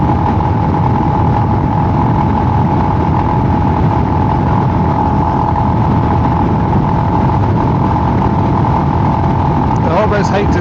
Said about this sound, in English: I'm enjoying the bike. I'm driving along now at 70 miles an hour.